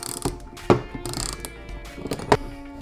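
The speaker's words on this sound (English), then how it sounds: "And now we'll take the box end of a 19 mil and an 8 mil Allen." Metallic ratcheting clicks and clanks from a 19 mm box-end wrench and an 8 mm Allen key tightening a car shifter linkage bolt, a few sharp close knocks among softer mechanical ticks.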